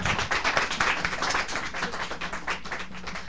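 Clapping from a school audience honoring students after a holiday play, an uneven rhythmic patter of fairly few hands close by, loud and continuous with no speech over it.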